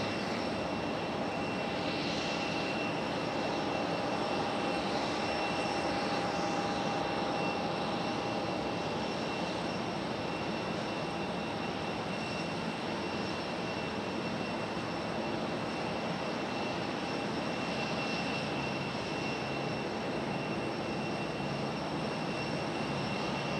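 An airplane on final approach to Raleigh-Durham International Airport drones steadily at a distance, a continuous engine roar and whine that holds level for the whole stretch with no voices.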